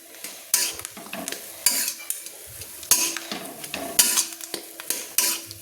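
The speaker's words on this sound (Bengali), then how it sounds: "আমি আলুর ভর্তাটাকে এইভাবে নেড়ে নিচ্ছি" A spatula stirs mashed potato (aloo bharta) in a pan over a low flame, making repeated scraping strokes against the metal in an uneven rhythm over a soft sizzle.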